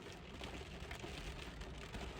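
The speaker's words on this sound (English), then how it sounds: "I don't know if you can hear the rain" Steady rain falls outside, a dense, even patter that stays close and constant throughout, with no voices over it.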